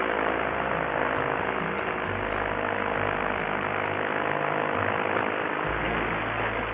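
Paramotor engine idling steadily in flight while ridge soaring, a continuous droning hum with propeller buzz and wind rush, no voices.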